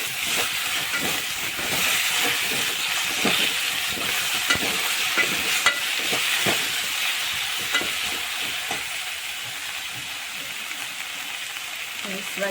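Fenugreek greens for a Kathiyawadi methi bhaji fry in a pan with a constant close sizzle, while repeated stirring strokes add irregular scraping clicks throughout.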